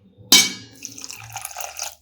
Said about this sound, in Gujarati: એમાં આપણે પાણી એડ કરીશું.